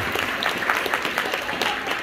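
An audience claps at a dance competition in Moscow as a Jack and Jill couple is announced, a brief burst of brisk, rhythmic clapping from a crowd.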